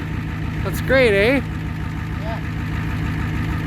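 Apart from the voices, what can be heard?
1990 Ford F250 7.3 diesel engine idling after cold start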